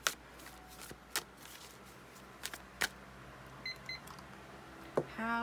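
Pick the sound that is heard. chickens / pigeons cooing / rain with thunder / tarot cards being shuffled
tarot cards being shuffled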